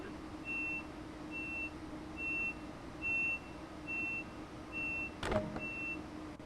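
Train door warning beeps in Train Sim World 2: a regular series of short, identical electronic tones repeating about every 0.6 seconds over a low steady cab hum, with a single sharp clunk near the end.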